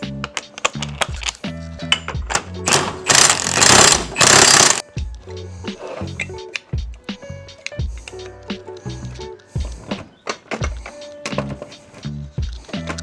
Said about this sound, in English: you're gonna take a socket and we're gonna drive this guy in